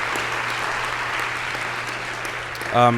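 A college audience at a Martin Luther King Jr. Day convocation claps steadily for nearly three seconds in a dense, even wash of applause; a voice and tones break in right at the end.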